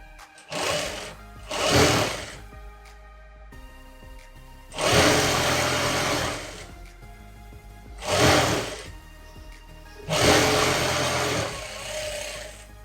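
Sewing machine stitching the sleeve of a girl's skirt-and-shirt outfit, running in four or five loud bursts of one to two seconds each, separated by quiet pauses, with no voices.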